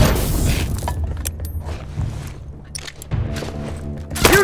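A bomb goes off in The Last of Us multiplayer match, a heavy boom with rumbling debris and mechanical clatter, followed by smaller impacts and a sharp crack at the end.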